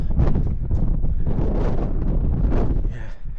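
Wind buffeting a microphone on a countryside walk, a loud, constant low rumble with gusty swells throughout.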